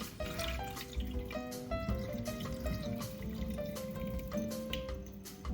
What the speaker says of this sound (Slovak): Rýžu odporúčam poriadne preplachnúť pod vodou, zbaví ťa to škrobu a prípadných nečistôt.